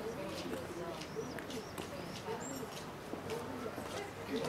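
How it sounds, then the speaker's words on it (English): Large pigeons roost on a building and coo repeatedly in soft, low rolling phrases over a background hum, with a person speaking nearby. "Those pigeons are huge."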